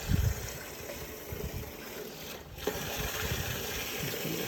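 Pond airlift bubbling steadily and pushing water into a garden pond, a continuous low gurgling wash with soft splashy texture, close and alone.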